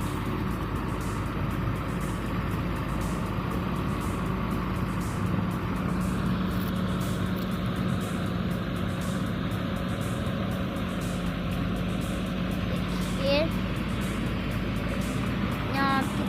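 A 128-wheel heavy transport vehicle creeps slowly along a track hauling a huge girder, producing a steady, loud low engine rumble that continues throughout with no pauses.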